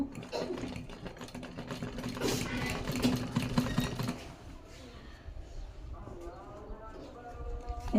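Sewing machine stitching a sleeve, a rapid, steady mechanical chatter for about four seconds, then quieter handling and a shorter burst of stitching; a voice talks faintly in the background.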